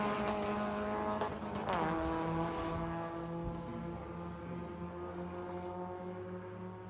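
An SCCA Super Tour race car at Watkins Glen gets back underway, its engine a steady, loud, harmonic drone whose pitch shifts as it accelerates and then holds a sustained tone.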